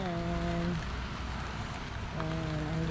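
Steady rain falling outdoors behind a house in rural tropical surroundings before a storm, a dense continuous hiss with a tonal hum drifting in and out.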